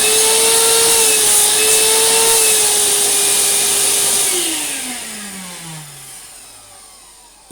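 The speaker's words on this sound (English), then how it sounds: "it will make a good dry vacuum" A Goblin Aquavac Multisystem 3000 vacuum cleaner runs loudly with a steady whine, then the motor winds down and its pitch slowly drops toward silence.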